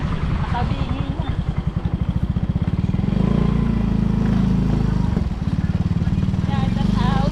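A motorcycle engine idles with a steady low rumble at a busy Philippine public market, the near, continuous chug running under people talking nearby throughout.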